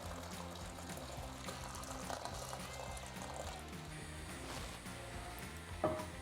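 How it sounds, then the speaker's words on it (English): Boiling water is poured from a kettle over dried chilies in a kitchen, a faint, steady trickle and splash running for several seconds, ending with a small clink. "we're going to take a bit of boiling water and pour it over the dried chilies just to rehydrate them a bit"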